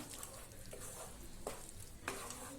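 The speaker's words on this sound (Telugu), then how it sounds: "బాగా మిక్స్ అయ్యేలాగా మనం కలుపుకోవాలి." A spoon stirs green pea halwa with khoa in a pan, quiet scraping strokes repeating over a soft continuous sizzle, with a few sharper clinks against the metal.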